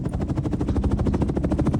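Helicopter engine and rotors in the Roblox game Oil Warfare Tycoon, a steady fast rhythmic chopping thump, loud and close, running continuously without talk.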